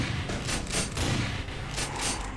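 In a video game shooter, a shotgun fires in a quick volley of loud, close blasts, several shots packed together over a couple of seconds with no talking.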